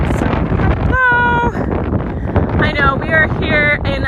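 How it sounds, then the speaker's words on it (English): Strong wind buffets the microphone at a seaside park on Oahu, a constant low roaring rumble under which a person talks in short bursts, close and loud throughout. "I know that it is super windy out here"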